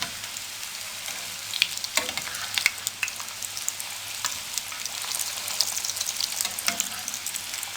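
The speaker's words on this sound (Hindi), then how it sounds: "लो फ्लेम पे इनको हम फ्राई करेंगे।" Chicken nuggets fry in hot oil over a low flame, giving a continuous close sizzle with bubbling crackle. Scattered clinks and scrapes of stirring run through it, and no one speaks.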